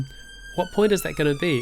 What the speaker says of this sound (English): Excuse the sirens. It's Whitechapel in London.